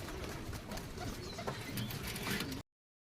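Matraj and giribaz pigeons coo in a few short murmurs close by, over rustling and background noise, then the sound cuts off abruptly.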